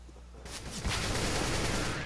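AK rifle fire in CS:GO on Dust 2, a dense rapid volley that starts abruptly and keeps rattling loudly to the end, with no voices.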